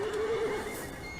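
A flaming unicorn horse in a video game gives a single short, loud neigh that rises and wavers for about a second, with faint hoof clip-clops underneath.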